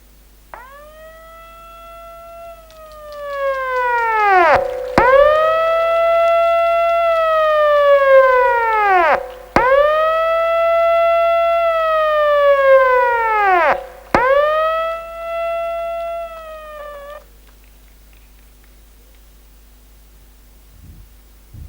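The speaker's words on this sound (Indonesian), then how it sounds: "ditandai dengan penekanan tombol sirine oleh inspektur upacara diiringi oleh bunyi-bunyian lainnya" A loud electronic siren wails at an Indonesian Independence Day flag ceremony, in four repeated rising-and-falling cycles, each sweep cutting off sharply before the next, then stopping, leaving near silence.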